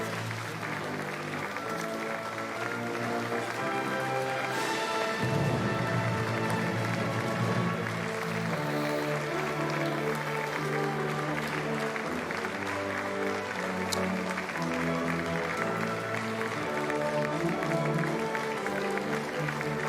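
Applause rises from Democratic Party lawmakers as President Lee Jae-myung and Kim Hye-kyung walk to the presidential inauguration oath ceremony. The clapping carries on steadily over background music for the whole stretch.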